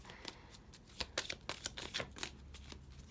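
Quiet, close riffling and soft slapping of tarot cards being shuffled in several quick bursts, irregular rhythm.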